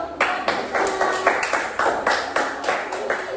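A small classroom group claps together in a loose rhythmic pattern, repeated bursts of hand claps at close range with a slightly uneven beat and no talk.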